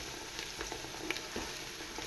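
Chili powder frying in oil for chicken biryani, a steady close sizzle and crackle with a few soft pops and stirring taps, no voices.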